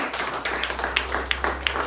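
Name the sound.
applause for Dr Prem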